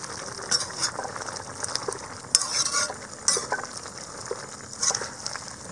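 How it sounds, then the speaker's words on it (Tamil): Potato and brinjal fry in a pan for a gravy, a soft continuous sizzle broken by several sharp scraping stirs and clicks of the spoon, close and fairly quiet, with no voice present. "கத்திரிக்காயையும் போட்டதுக்கப்புறமா நல்லாவே ஒன்று மிக்ஸ் பண்ணி விட்டுறணும்."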